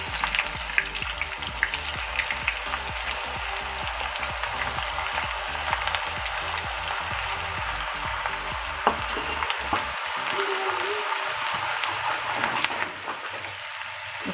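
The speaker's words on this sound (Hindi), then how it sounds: "अब हम इसमें डालेंगे प्याज।" Onions frying with chilli chicken in a pan, a dense steady sizzle with stirring clatter running throughout, loud and close, easing slightly near the end.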